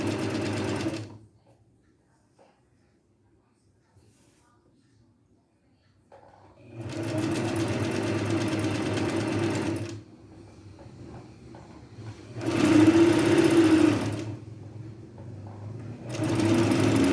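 A sewing machine stitches the seam of a short-sleeved blouse in three loud, steady whirring runs of a few seconds each, separated by quiet pauses and a faint final burst.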